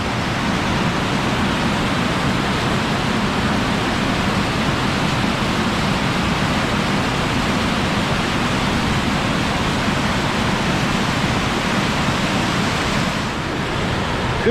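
Flowing water at the Kuhakoski rapids in Finland, a loud, continuous broadband rush with no pauses and no talk over it.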